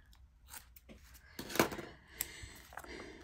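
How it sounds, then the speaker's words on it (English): Scissors trim a strip of washi tape for a Hobonichi Weeks Mega bullet journal page, producing one quiet, close snip amid faint handling rustles. "I'll just trim it a little bit."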